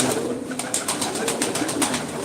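Soft, repeated cooing of pigeons close by, a low rolling murmur over a steady background hiss, with no talking.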